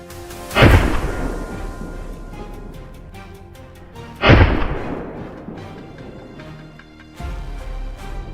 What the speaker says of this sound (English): As soon as the boars appeared, a volley of gunshots rang out.